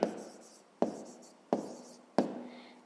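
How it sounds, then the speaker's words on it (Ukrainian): Chalk or pen strokes of someone writing out the working of a fifth-grade math problem, four crisp scratching bursts spaced evenly about every 0.7 seconds, close and fairly quiet, with no talking. "Отже, записуємо."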